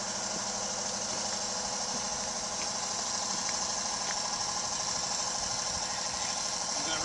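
A factory fresh 1946 Harley-Davidson WR engine idles after a cold start, a steady close, loud mechanical chug with a knocking pulse running evenly throughout.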